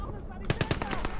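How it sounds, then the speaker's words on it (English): Anti-tank rifle fire in the Gates of Hell video game, a loud, close burst of about six heavy reports in quick, fairly even succession, rising from a low game rumble. "I did take some AT rifle fire then"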